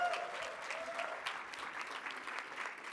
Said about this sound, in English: Let's give that one more round of applause.